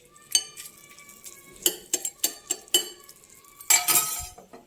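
A spoon stirs fried tempering into a fenugreek leaf chutney in a pot, giving a series of sharp metallic clinks and scrapes in an uneven rhythm, close up, with a faint sizzle beneath.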